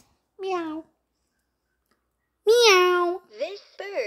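A voice imitates a cat's meow, one short mewing call followed after a pause by a longer drawn-out meow and two brief trailing calls, close and clear against silence.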